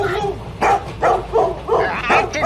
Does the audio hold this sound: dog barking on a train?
yes